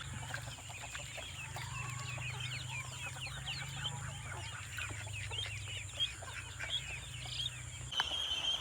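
Chickens cluck steadily in a busy farmyard, a rooster and hens together, with scattered bird calls and a low hum underneath.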